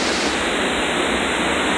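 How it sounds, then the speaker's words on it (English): Steady, loud broadband roar of the waterfall at Black Water Falls, a continuous rushing wash of falling water with no voices over it. "behind me is a stupid waterfall that you can't even go walk behind anymore"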